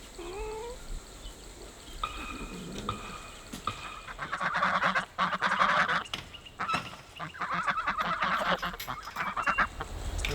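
Geese honking on a homestead in a noisy, overlapping chorus, getting louder and busier in the second half, with scattered sharp clatters mixed in.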